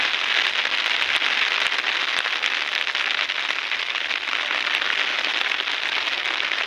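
Heavy rain pours down in Kanke, a steady, loud hiss of drops striking surfaces with no break, close and continuous.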